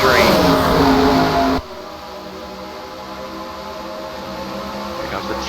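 NASCAR stock cars roar as they accelerate at a single-file restart during the 2008 All-Star Race at Charlotte, a loud dense engine wash that drops to a steadier, lower drone after a second and a half, under commentary.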